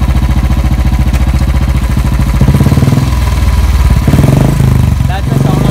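A Royal Enfield motorcycle engine in third gear, running loud and close with a steady mid-pitched thump that rises slightly as the throttle opens, with a voice briefly heard over it.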